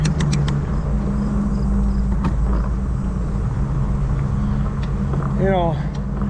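A car engine running in low gear, with a steady, loud, low rumble throughout and a few sharp clicks and brief voices over it.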